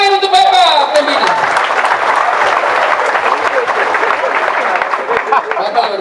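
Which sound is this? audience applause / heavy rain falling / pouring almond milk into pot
audience applause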